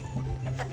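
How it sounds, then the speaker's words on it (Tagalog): Chickens cluck softly nearby in a brief burst, a low throaty murmur from the birds. "Mga manok"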